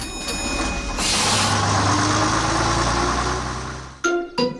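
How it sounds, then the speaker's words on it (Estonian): A cartoon bus pulls away, its engine humming loudly and steadily for several seconds before cutting off, followed by a couple of sharp, brief mechanical bursts at the end. "Buss hakkab liikuma."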